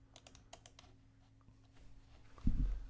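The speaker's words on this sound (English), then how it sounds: "So I'm just gonna go over here and type in 9." Short bursts of keyboard typing, a handful of close, crisp key clicks early on, followed by quiet room tone and a louder thump at the end.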